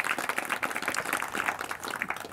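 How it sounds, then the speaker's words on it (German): An audience applauds Daniele Ganser at an event, a steady dense patter of many hands clapping together, moderately close and continuous, with no talk over it. "Das ist Ihr Applaus, Herr Ganser."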